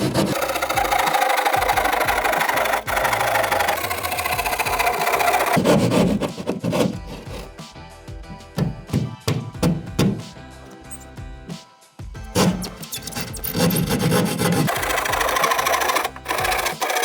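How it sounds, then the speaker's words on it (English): Rapid back-and-forth rasping of a drywall saw cutting through drywall, loud and continuous, with brief pauses between stretches of cutting. "Using a drywall saw, I'm going to now cut along our vertical lines."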